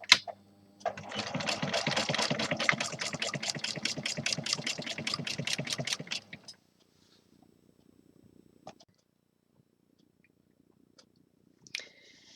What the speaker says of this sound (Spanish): Continuaré cosiendo lo que son los hombros, lo que es la parte de delante y de detrás